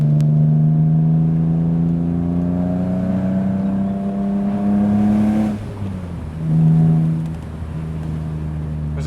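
A BMW Z3M Roadster's engine drones steadily while cruising, its pitch rising and falling gently with throttle changes, loud and smooth throughout, with no talk over it.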